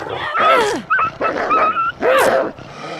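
A dog in The Long Dark survival game attacks with a series of close, loud growls, snarls and yelping barks in quick, uneven bursts.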